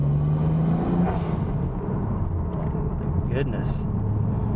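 A Nissan Skyline GT-R R33 V-spec engine fitted with an Apexi Power Intake and a blow-off valve runs close by with a steady, loud, rough rumble. A brief exclamation from a person is heard over it.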